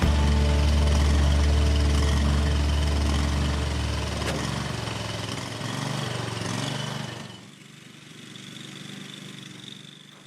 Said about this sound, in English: You can hear the engine is hunting a bit.